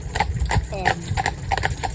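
Hooves clip-clop steadily on a road as a Friesian horse pulls a long training carriage, the crisp, evenly spaced strikes close by with someone talking over them.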